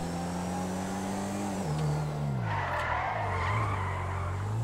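A BMW i8 drifting in GTA 5, its engine droning as the pitch slides down while the tires skid and squeal through the turn, loud and close throughout.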